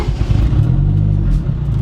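A turbocharged mid-engine Mitsubishi Eclipse driving, its engine a loud, close, steady low drone with a rough rumbling edge and no talking over it.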